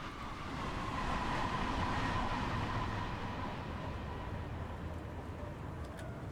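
A Long Island Rail Road M3 electric commuter train in Train Sim World coasts along the track, a steady low rumble with a faint sustained motor whine, rolling on without braking.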